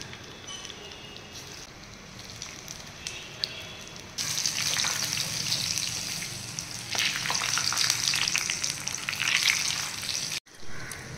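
Batter-coated food dropped into hot oil in a kadai makes a soft sizzle that jumps to a loud, dense crackling frying roar. The roar holds steady to the end, with a brief cut just before the close.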